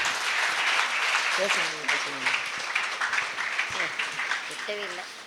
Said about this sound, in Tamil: கைத்தட்டல் கொடுத்து உற்சாகப்படுத்தும்படி அன்புடன் கேட்டுக்கொள்கிறோம்